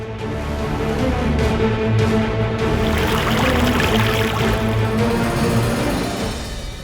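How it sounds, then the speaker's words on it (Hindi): Water poured onto a woman's burned foot, a steady close pouring wash under a dramatic TV-serial music bed with sustained tones throughout, no talk. "हम पानी डालते माँ को आराम मिलेगा"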